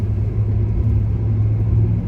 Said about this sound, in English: I am driving to San Ramon.